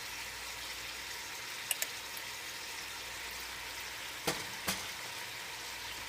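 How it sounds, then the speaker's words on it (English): Garlic sizzling in olive oil for an eggplant Parmesan, a steady broadband frying hiss running throughout with a few brief utensil clicks and scrapes near the pan. "I'm going to put some of it in, along with the garlic and the olive oil."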